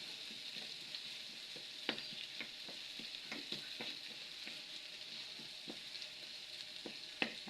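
Bangus (milkfish) frying in a pan: a faint steady oil sizzle with scattered soft pops and a few sharper spatters, alone without talk.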